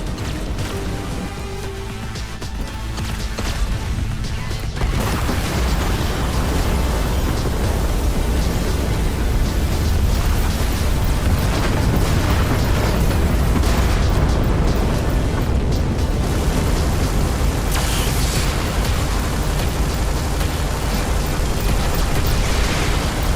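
Torpedo blasts in the space-combat game Everspace 2 merge into a loud, continuous roar of explosive noise that surges after a quieter opening and holds steady to the end.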